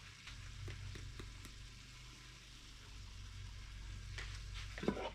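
Ham and vegetables sizzle quietly in a pan, with soft crackling and occasional clicks of stirring against a low background hum.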